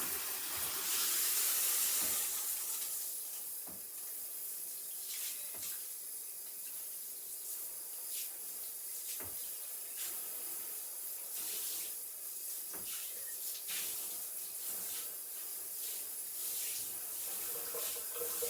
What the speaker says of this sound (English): You fill the cup up and rinse it out.